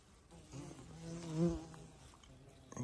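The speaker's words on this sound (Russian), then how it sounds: "И слепни, и комары." Horseflies and mosquitoes buzz in a hot, dry forest, a steady close drone that swells as one insect passes near the ear around the middle and fades away.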